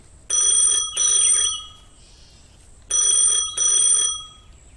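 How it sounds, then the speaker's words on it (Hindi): A mobile phone rings in an office in two pairs of bright electronic trills separated by a short pause, loud and close, with no talking. "तभी उसका फोन बजता है"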